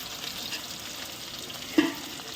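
Chopped onions fry in oil for mutton kosha over a clay stove, a soft, steady sizzle with light stirring and one brief scrape of the utensil, quiet and close with no talk.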